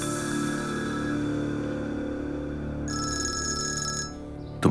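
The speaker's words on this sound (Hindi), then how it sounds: "तुम्हारे बाबा का फोन है," A phone rings with a bright electronic ringtone that starts partway through over a low steady background hum and stops just before the end.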